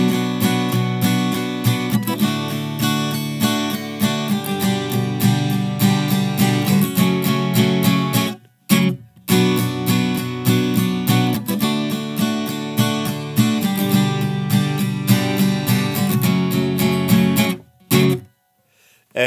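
An acoustic guitar strums the chorus chords of a song slowly and evenly, loud and close, with two brief pauses where the strings are muted. No voices.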